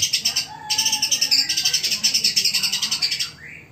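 A white-rumped shama (murai batu) sings a rapid, repeated high chirping phrase with a brief pause after the first half second, close and clear over a quiet background.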